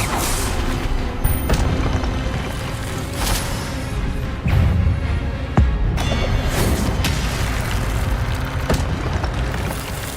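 A barrage of Hogwarts Legacy spells, including Incendio, Expelliarmus, Accio and Levioso, goes off as repeated magical blasts and booms, with loud impacts landing every second or two and no talk.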